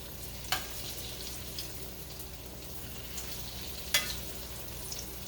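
Green tomatoes fry in hot grease with a steady, close, low sizzle, broken by two sharp crackling pops and a few softer spatters.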